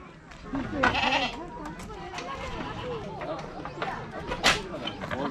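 Goats bleating in a busy weekend setting, several loud cries rising over people chatting and laughing nearby, with shuffling movement throughout.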